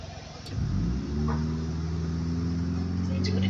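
A 1988 Abishu Pessima car in BeamNG revs up hard, the engine climbing to a steady loud drone after a quick rise, close and continuous.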